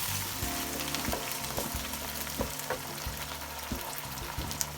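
Onions and tomatoes frying together in a pan, a steady close sizzle broken by repeated scraping and stirring strokes at an irregular rhythm, no voices.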